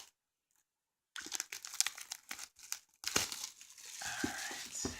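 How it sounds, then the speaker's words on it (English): Plastic wrap is crinkled and torn off a Force of Will Vingolf 2 card box, opening with silence, then close, continuous crackling and rustling that swells into steadier crinkling toward the end. "Getting the plastic off here."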